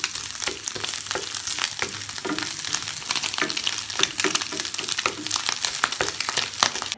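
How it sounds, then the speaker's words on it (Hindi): Slices of mortadella frying in a pan, a dense crackling sizzle with irregular pops and scraping stirs, steady and close throughout. "और इसको हल्का सा इधर ही फ्राई कर लें।"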